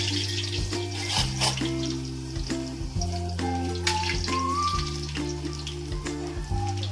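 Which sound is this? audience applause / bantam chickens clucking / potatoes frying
potatoes frying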